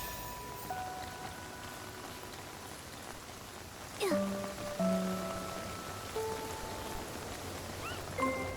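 Steady rain falls in the video game Infinity Nikki, a soft continuous patter under a few faint chime-like game tones.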